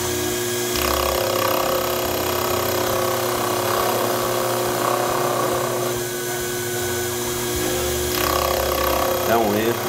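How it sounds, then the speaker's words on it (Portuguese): A small Sherline machine tool spins at 2000 RPM with lubrication while cutting a part, a steady motor whine with cutting noise underneath that holds throughout, with speech over it. "Eu estou com 2000 RPM aqui. Está lubrificando. E vamos à usinagem."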